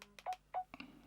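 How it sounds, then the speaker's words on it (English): A phone ringtone plays briefly through a mini wireless keyboard's media controls, a few short electronic tonal notes heard close and fairly faint. "There we go, look, my ringtone."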